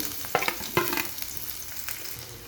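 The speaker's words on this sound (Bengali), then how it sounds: "এবার পেঁয়াজটা হালকা করে ভেজে নেব।" Onion fries lightly in hot oil, a steady close crackling sizzle broken by a few sharp stirring knocks.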